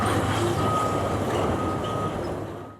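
Heavy trucks work at Oroville Dam in the rain, a loud continuous engine rumble with a faint steady tonal whine over it, fading slightly at the end.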